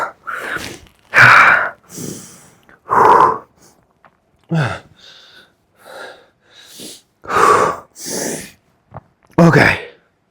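Heavy, ragged breathing after a hard leg workout set, with loud gasping inhales and exhales in uneven bursts, close to the listener and separated by short pauses.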